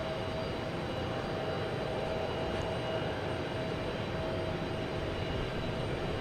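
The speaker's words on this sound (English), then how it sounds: "next takeoff, we have JetBlue heading to the land of family vacation" A JetBlue airliner takes off at Boston Logan Airport, its engines producing a steady, loud, broadband roar with a faint whine that holds constant throughout, with no talking.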